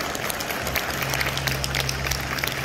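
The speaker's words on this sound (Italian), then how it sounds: "I musicisti, un bel applauso per Sahil" An audience at an Eastern culture festival in Padua applauds the Rajasthani gypsy musicians with dense, steady clapping from start to finish, and a low hum runs underneath.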